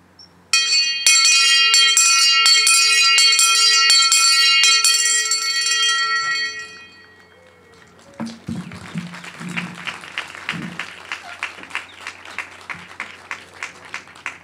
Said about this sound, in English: ring this bell not only when students enter as first-year students at orientation, but also at the close of this chapter in their lives